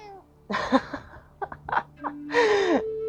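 A few short cat meows and chirps, close and soft, separated by brief pauses, with faint breathy sounds between them.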